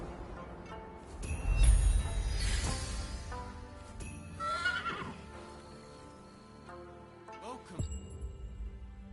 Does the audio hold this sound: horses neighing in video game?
yes